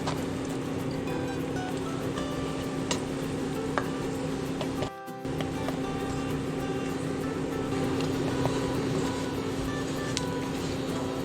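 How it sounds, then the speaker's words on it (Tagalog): Egg sandwich pan-frying in melted butter, a steady, continuous sizzle with a constant hum underneath and a brief dropout midway, no voices. "Pan-fry natin ng 1 to 2 minutes ang magkabilang side or hanggang maging golden brown."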